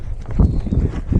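A horse ridden in a hackamore walks with soft, irregular hoof thuds, a few dull clip-clops landing close and low under a faint background.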